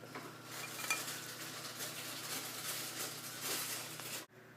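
Graham cracker crumbs, light brown sugar, cinnamon and melted butter are stirred in a dish, with steady scraping and clinking of a utensil against the bowl throughout, then an abrupt stop.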